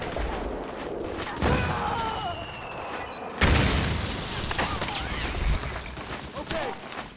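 A grenade in Metal Gear Solid 4 detonates with a loud, sudden boom, followed by scattered gunfire and debris amid battlefield noise, with a second blast earlier in the sequence.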